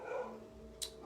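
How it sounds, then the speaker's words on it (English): Dogs barking indoors, a few short distant barks and a whimper heard faintly in a quiet room. "I don't know what my dogs are barking at."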